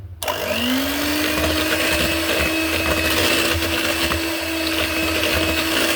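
An electric mixer whirring steadily as it beats chocolate chip cookie dough with eggs and vanilla, spinning up at the start and then holding an even, loud drone with no talking.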